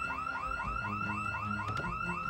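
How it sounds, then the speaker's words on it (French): A car alarm blares in Project Zomboid, a looping electronic wail that rises and falls in steady repeated cycles, loud and close, with a brief sharp burst near the end and no talk over it. "Encore une alarme, j'en peux plus."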